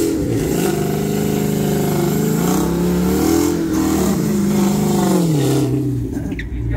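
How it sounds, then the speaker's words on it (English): A Ram truck with a boosted 5.7 Hemi revs hard for a burnout, the engine loud and close, rising and falling in repeated surges before easing off at the end. "See if we can get him to do a proper burnout."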